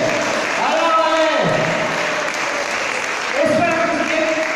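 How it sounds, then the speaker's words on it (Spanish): A church congregation applauds, a steady dense wash of clapping throughout, while a preacher's amplified voice speaks over it. "¿Cuánto le da un aplauso al Señor por eso?"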